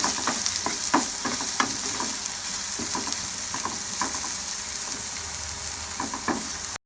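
Steady close sizzling of onions frying in a pan, with occasional stirring clicks and scrapes over a continuous hiss.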